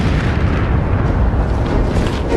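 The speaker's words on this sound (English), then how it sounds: "The rocket, of course, slowly comes back down on the pad, just explodes in a massive explosion." Soviet N-1 rocket exploding on its launch pad in a massive blast: a loud, sustained, roaring rumble that fills the whole stretch without letting up.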